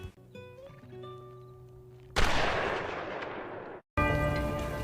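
Gunfire from shooting practice in a western film: two loud, sharp shots ring out with long echoing decays, entering after a stretch of soft tonal music.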